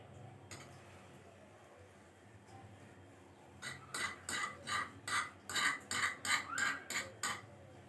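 A utensil scrapes and clinks rhythmically in a pan while Assamese pitha is being made, with quiet room noise at first, then a run of about ten regular stirring strokes close by.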